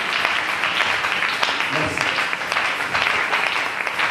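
A church congregation acclaims with loud, sustained applause and cheering, a dense roar of clapping and voices filling the room throughout.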